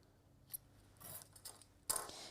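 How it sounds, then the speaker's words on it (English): Scissors snip through paper while pieces are trimmed for a handmade shaker card, with a soft early click, a couple of quiet cuts in the middle, then a sharper, louder snip near the end, all close and quiet. "Let me snip that off."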